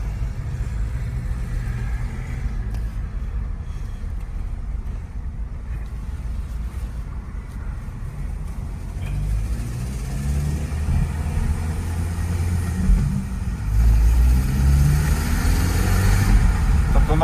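An Opel Vectra C engine accelerating after a high-pressure fuel pump replacement, with a possible slight misfire, heard as a low, continuous engine drone that steps up in loudness twice as the revs rise. No one talks.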